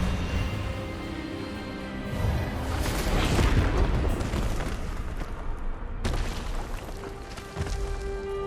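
A spell blast in the Hogwarts Legacy video game erupts as a loud, booming burst that swells around the middle and decays over several seconds, with a sharp cut and a lingering rumble near the end.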